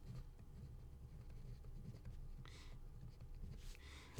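Chalk or marker scratches across a board during a math lecture, faint and soft against a steady low room hum, with a couple of brief, brighter scraping strokes near the end.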